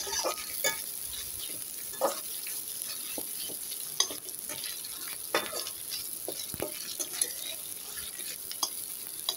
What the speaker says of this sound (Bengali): পেঁয়াজ কুচিটা ব্রাউন কালার হয়ে আসা পর্যন্ত নাড়াচাড়া করতে থাকবো।